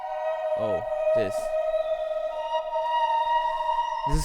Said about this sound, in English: It's a Talking Whales from the Granular Whale Song library